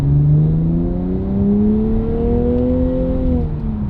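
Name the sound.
Nissan Z accelerating in second gear, manual mode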